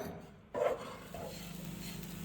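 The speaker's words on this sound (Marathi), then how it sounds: "इथे आपण थोडंसं तूप घालून परत परतून घ्यायचा हा चुरा" Coarse bajra churma crumbs are stirred and sautéed in ghee in a pan, a soft continuous scraping and gentle sizzle starting abruptly and continuing steadily up close.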